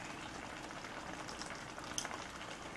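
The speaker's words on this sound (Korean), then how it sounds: "오랜만에 튀기네." Food fries in a pan during the cooking of a soy-seasoned beef and tofu dish, a faint, steady crackling sizzle with scattered pops running throughout.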